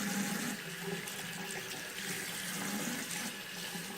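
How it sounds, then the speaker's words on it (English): Running water from a tap rinses a watercolor brush, giving a steady, soft hiss of flowing water that continues evenly and stays close by, with no talking. "I'm going to rinse it thoroughly, stroke it again"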